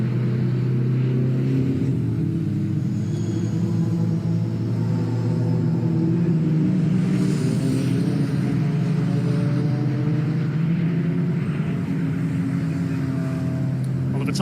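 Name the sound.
racing cars on track at Oulton Park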